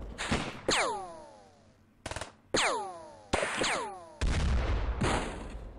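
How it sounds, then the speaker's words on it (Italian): Video game gunfire and explosions from X-COM Files: a series of loud, sharp blasts, each trailing a ringing falling tail, with short bursts between them, and no talking. "Uh, esplosioni."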